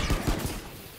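A short, close burst of automatic gunfire in Valorant, several rapid shots in quick succession.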